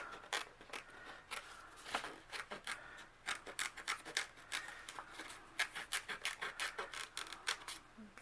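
Scissors cut through paper around a rub-on transfer sheet, a close, quiet series of crisp snips in an uneven rhythm, about two dozen cuts.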